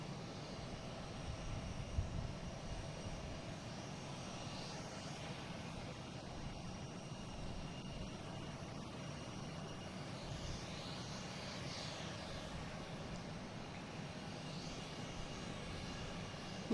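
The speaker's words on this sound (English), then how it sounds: "And we got a JetBlue coming in." JetBlue Airbus A321 airliner landing at Boston Logan airport after a flight from San Francisco, a faint distant steady jet roar with a low rumble, sustained throughout and free of talk.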